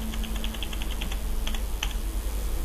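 Fingers tap a computer keyboard in quick, light keystrokes, a steady run of clicks with a few pauses, set over a low hum of room noise.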